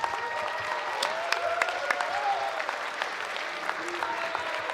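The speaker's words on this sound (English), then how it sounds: "round of applause. Let's hear it." A crowd claps and cheers in sustained applause at a Mortal Kombat 1 esports tournament, with voices talking and calling out over the clapping.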